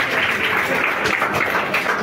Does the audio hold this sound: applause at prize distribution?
yes